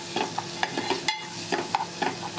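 Tomato and spice mixture stirred in a cooking pan, a quick series of close scraping and knocking strokes over a low sizzle, about a dozen strokes in steady rhythm, with no talking.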